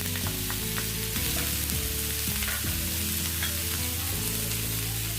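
Red chili powder and masala frying in a pan for a vegan kebab, a continuous close sizzle with stirring scrapes, loud and steady without speech.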